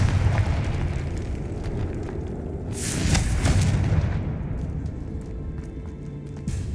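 A Confringo spell in Hogwarts Legacy lands as a burst-like boom amid a continuous rumbling game soundscape, with a bright crackling flare partway through.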